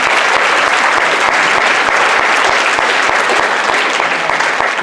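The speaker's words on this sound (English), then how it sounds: "Let's give them a round of applause." Audience at a fall band concert applauding, dense steady clapping from many hands filling the room, loud and continuous throughout.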